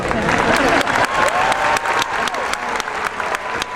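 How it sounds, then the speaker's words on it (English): An audience at a service award ceremony applauds steadily, close and full, with a few voices mixed in. "Yes, you can applaud on that."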